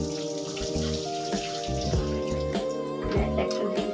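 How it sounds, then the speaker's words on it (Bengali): Hands are washed under a running kitchen tap while cooking egg chops, giving a steady close splash of water with irregular droplet and splatter sounds. "এখন আমি হাতটা একটু ধুয়ে নিই।"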